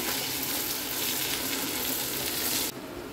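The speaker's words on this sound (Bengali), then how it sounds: "এবারে তেলের ওপর আমরা আলুটা ভাজছি" Potato pieces frying in hot oil in a pan, a loud continuous hiss and crackle of sizzling that holds steady, then abruptly drops to a softer sizzle near the end.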